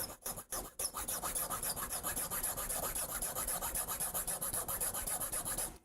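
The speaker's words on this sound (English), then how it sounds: "It makes this weird noise when I file." A flat file rasps steadily back and forth across the ends of a metal part from a MIDI modular synth kit, in a fast rhythmic scraping that goes on without pause, close and fairly loud.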